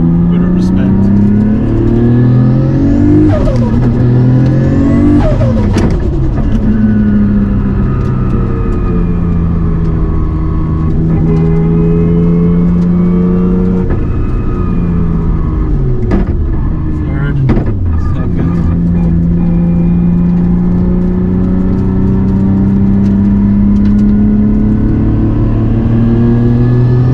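A Nissan R34 GT-R engine runs loud and close throughout, its pitch rising under acceleration and then dropping sharply on aggressive downshifts. Pitch swings repeat several times over a steady engine drone, with talk partly mixed in.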